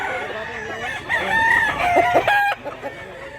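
Roosters crow at a poultry sellers' yard in Mantalungon, Cebu, with one long rising crow and overlapping calls from several birds, fairly close, ending abruptly.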